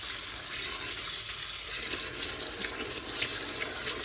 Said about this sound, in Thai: มาล้างน้ำออกก่อน